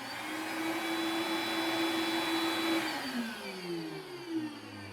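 A shop vacuum runs with a steady whine, then spins down as it switches off, its pitch falling away.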